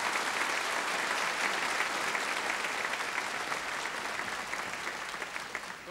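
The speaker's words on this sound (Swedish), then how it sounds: "En applåd för dem!" A big crowd at a 1988 Swedish sing-along event gives visitors from Finland a loud, dense, continuous round of applause that holds evenly and then slowly fades toward the end.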